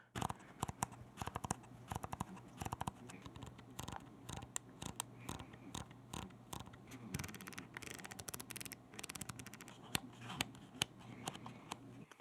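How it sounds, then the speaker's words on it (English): Crisp buttons and dials on a Canon R6 Mark III camera click over and over at close range, a dense run of sharp irregular taps with no talking. "the buttons are clicky"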